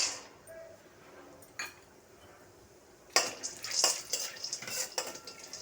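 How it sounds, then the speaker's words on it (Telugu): Cashews frying in a spoonful of ghee in a pan for halwa, heard as quiet scraping and clinking of a spoon against the pan, with a brief knock early on and busier stirring and clatter in the second half. "ఒక స్పూను నెయ్యి వేసుకొని జీడిపప్పు వేయించుకుంటున్నానండి నేను."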